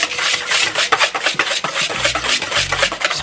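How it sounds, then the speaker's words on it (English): A whisk scrapes briskly around a bowl of flour, salt and baking powder, making close, rhythmic scratchy strokes in quick repetition with no talking. "I'm just going to whisk these together until they are combined."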